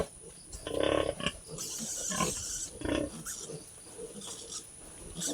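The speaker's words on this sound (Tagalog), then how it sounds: "Makukulit na ang mga biik natin." Piglets squeal and grunt close by in several short, lively bursts over a quiet background.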